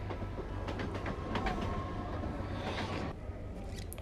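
A train at Kopar railway station, heard as a steady low rumble and rolling clatter of wagons close by, with a brief squeal of wheels, running continuously and then easing slightly near the end.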